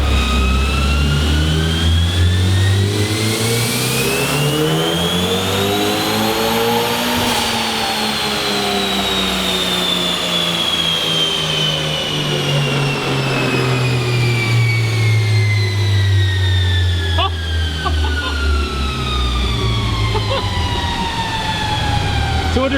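Built high-compression turbocharged 1.6-litre engine at 8 pounds of boost on a dyno, loud and close, pitch climbing steadily to a peak then winding back down in one long sweep, with faint voices in the background.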